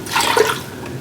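Water poured into a pan of sugar for syrup, a short splashing gush lasting under a second, close and clear.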